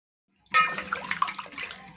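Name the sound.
washing tomatoes in water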